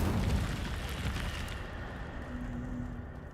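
A fire spell bursts in the video game Hogwarts Legacy, a loud, broad whooshing explosion that fades away over a few seconds, with no talking.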